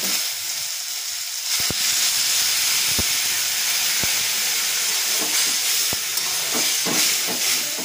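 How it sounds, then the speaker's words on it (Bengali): Steady loud hissing sizzle of water poured into a hot pan of spiced soybean curry, with scattered sharp clicks and knocks throughout. "এবার আমি এতে পরিমাণ মতন জল দিয়ে দেবো।"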